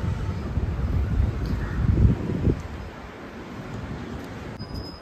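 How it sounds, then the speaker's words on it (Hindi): Strong wind gusts rushing past an open rooftop beside a swimming pool, a steady broadband roar with a louder gust swelling midway and then easing, with no voices. "इतनी तेज हवा आती है ऊपर हमारे,"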